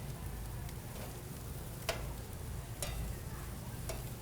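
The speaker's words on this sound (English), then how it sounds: "thought I'd decide to grill up some pineapple" Pineapple slices sizzle on a grill, giving a steady close frying hiss. Sharp ticks and pops break through it about once a second, and no one speaks.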